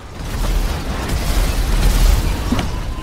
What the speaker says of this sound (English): did the tank blow up on top of me?